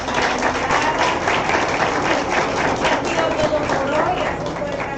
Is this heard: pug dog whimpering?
no